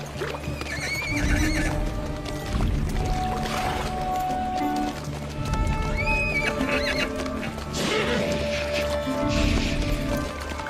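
Horses on a journey stop to drink, whinnying and neighing repeatedly in several loud calls, with hooves clopping and water sounds between them and no speech.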